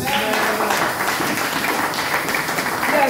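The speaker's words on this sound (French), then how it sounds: "J'aime entendre les bruits des acclamations." A church congregation applauding and cheering, a continuous wash of clapping hands with crowd voices mixed in, steady and moderately loud throughout.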